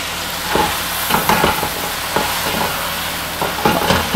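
Mutton mince frying and being stirred in a pan for khara masala qeema, a steady close sizzle with repeated scraping stir strokes throughout, no talk.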